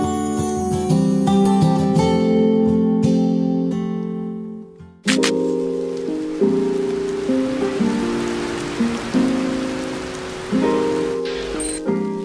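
Rain falls steadily outside a restaurant, a broad even hiss that sets in partway through beneath sustained music tones.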